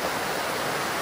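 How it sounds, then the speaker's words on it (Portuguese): A waterfall at a campground in Aldeia Velha, Rio de Janeiro, gives a brief, steady, close rush of falling water with no voices. "Tem como você descer para a cachoeira aqui, tomar um banho."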